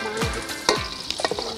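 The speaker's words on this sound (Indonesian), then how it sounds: "sekarang emak mau goreng dulu jengkolnya ya" Jengkol beans fry in hot oil in a pan, crackling and sizzling steadily up close, with brief scraping and stirring noises; no one speaks.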